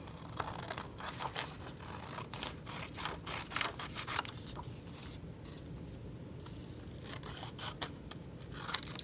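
Scissors cutting construction paper for a craft, snipping steadily in quick repeated crunchy strokes close to the mic, pausing briefly partway through and then resuming, with no voices.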